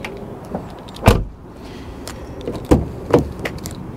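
Electric rear windows of a Vauxhall Zafira Elite working inside the parked car, with a few sharp clunks and motor whirs in short bursts, close and fairly loud with no talk.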